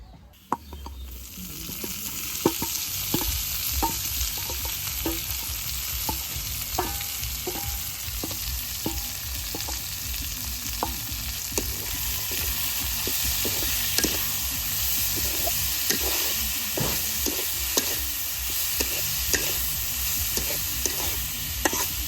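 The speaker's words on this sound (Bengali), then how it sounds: "রসুন কাঁচামরিচ ভালোভাবে বেজা নিছি এখন তেলে সিদ্ধ করে শাকটা দিয়ে দিই" Water spinach greens fry loudly in hot oil with garlic and green chilli, a continuous close sizzle broken by frequent clattering stirs of the utensil against the pan.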